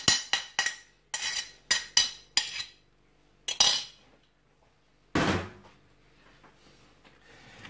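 Sharp clinks and knocks of a fork or whisk against a bowl while beaten egg is worked into a flour crater for waffle batter, several quick strikes then a longer scraping burst, close and clear with no talk.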